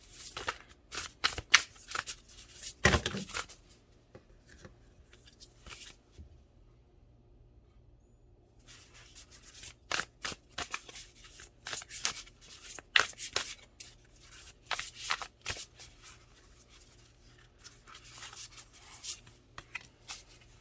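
Tarot cards shuffled by hand at close range, in quick riffling bursts that stop for a few seconds midway and then resume in a steady run, with no talking.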